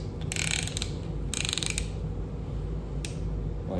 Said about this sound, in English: just crank this thing until it starts compressing the rings